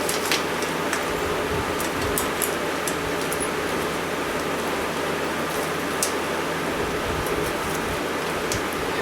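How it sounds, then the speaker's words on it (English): An electric fan runs behind the listener with a steady, even broadband whoosh throughout, moderately loud, with a few faint clicks and no talking. "I don't know if you can hear me with that fan behind me"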